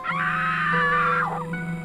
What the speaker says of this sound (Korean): 한 여성의 비명소리가 들렸고 이 소리는 차고에서 난 것 같았습니다.